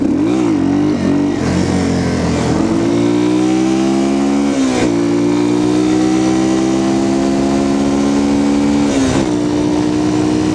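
A Yamaha TTR230 trail bike engine revs loudly and close up, its pitch rising and dipping repeatedly as the throttle is worked while riding.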